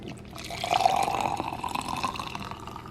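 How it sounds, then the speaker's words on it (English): Hot water pours into a mug of collagen mix flavored with vanilla, a close, steady gurgling stream lasting a few seconds, with no talking. "add my hot water,"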